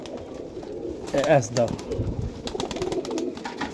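Pigeons coo in a breeders' loft, soft rolling calls beneath someone talking up close, with a brief louder burst of calls and fluttering in the middle.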